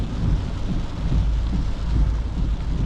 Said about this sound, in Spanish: Se nos largó a llover ahora